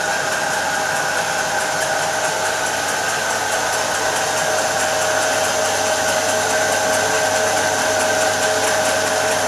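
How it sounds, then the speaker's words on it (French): A Brandt Stato 46 washing machine spins at 300 rpm, giving a steady, continuous whirring hum with a high whine that holds even and unchanging throughout, with no talking. "La notice conseille d'essorer pendant 6 minutes"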